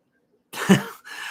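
One short explosive sneeze cuts through silence during a livestream question-and-answer session, close to the microphone, followed by a brief breathy tail.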